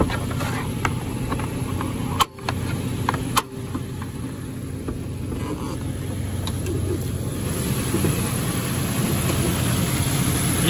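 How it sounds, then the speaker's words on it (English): Nissan Xterra RWD engine running with the hood open, a steady loud low rumble at idle, broken by a couple of brief clicks, with the hum continuing evenly throughout. "I'm going to hit the gas so you can hear the engine"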